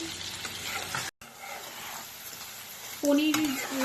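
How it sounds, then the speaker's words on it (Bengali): Paneer cubes fry and are turned over in a pan, making a steady close sizzle with light stirring scrapes, broken by a brief drop to silence before the frying resumes louder. "উল্টিয়ে পাল্টিয়ে ভাজলে জিনিসটা খুব ভালো করে ভাজা হয়"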